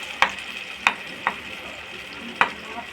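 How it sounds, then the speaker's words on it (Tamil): Onion and tomato paste fries in a pan for egg chukka, a soft steady sizzle broken by four sharp scraping stirs spaced unevenly. "நல்லா வதங்குது பாருங்கள்."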